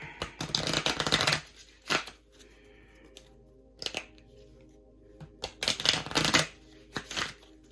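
Tarot cards shuffled by hand, loud riffling bursts at the start and near the end separated by quieter card handling and light taps, close up with no speech.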